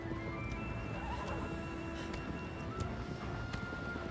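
Agro the horse in the video game Shadow of the Colossus whinnies while game hooves clip-clop at a trot, fairly quiet beneath a steady game-music background, with no voices.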